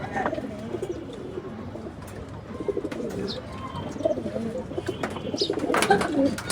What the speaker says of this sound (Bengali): এখানে বিশাল আমার এক পাট্টা দুই পাট্টা কবুতর আছে